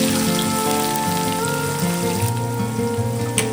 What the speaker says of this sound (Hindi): अब प्याज को हम गोल्डन ब्राउन होने तक सेकेंगे